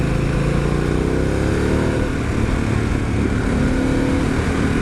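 A Harley-Davidson Pan America motorcycle engine pulls hard under acceleration, a loud, steady roar with rising engine tones that climbs through the gear, mixed with wind noise and no talking.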